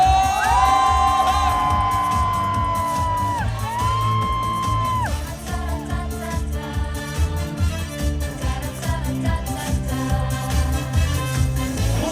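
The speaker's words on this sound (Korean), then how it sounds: "여러분들의 함성 소리 소리 질러" An audience whoops and shouts at an outdoor singer's medley concert at a forest healing expo in Yeongju, South Korea. Long drawn-out yells rise over loud, thumping music.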